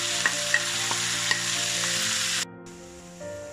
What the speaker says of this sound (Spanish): añado el tomate, los dos tomatitos de pera maduritos y un poquito de perejil hasta que se sofría todo bien